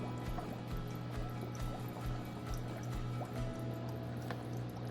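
All Joy M2 foot spa massager running with hot water on its bubble setting, a soft steady hum with rhythmic low bubbling pulses and faint watery trickles, quiet and close, with no voices.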